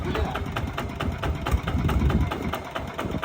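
A Golden Bow 155 small engine idles steadily close by, a rapid even chugging with a low rumble that holds throughout without changing pace.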